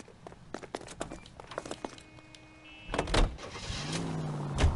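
A car in the video game L.A. Noire being entered and driven, with scattered clicks and a door thunk followed by the engine starting and a steady motor hum rising near the end.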